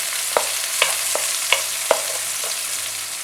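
Capsicum and mixed vegetables sautéing over high heat for mushroom pepper fried rice, a steady sizzle broken by sharp, regular clicks of a spatula against the pan, roughly every half second, close and alone.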